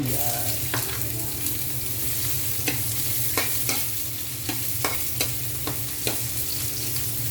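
Garlic and onion frying in a home kitchen pan, a steady broad sizzle with a low hum beneath and intermittent scraping clicks of a spatula stirring, close and continuous throughout.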